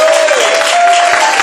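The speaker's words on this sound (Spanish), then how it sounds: "Denle un fuerte aplauso a Dios." Church congregation applauding at a Christian service, a brief, loud, dense burst of clapping with a faint sustained tone running underneath.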